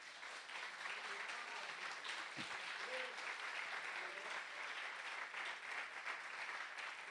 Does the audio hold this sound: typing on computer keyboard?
no